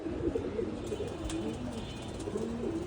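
Pigeons coo repeatedly in a loft on a rainy day, their low rolling calls steady and close against a constant background hiss of rain.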